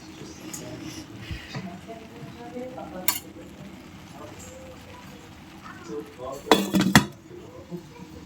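Rice being mixed in a pot of raw banana flower and bud biryani, with spoon-on-metal scraping and clinks, then a louder clatter as the lid is set on near the end, under a faint background voice.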